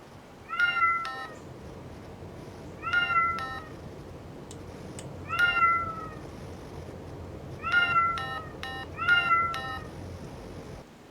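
Electronic cat meows from a LEGO Spike Prime robot repeat in short clusters, several bright synthetic mews played back from a small speaker, with brief pauses between groups and no talking.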